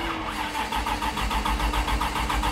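A Firebird with an all-iron engine cranks over with a rapid, rhythmic starter churn that runs for several seconds, loud and close, with no talk over it.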